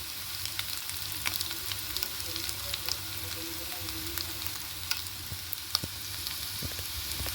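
Nethili anchovies frying in oil in a pan, a close, steady crackling sizzle with scattered sharp pops throughout and no voices.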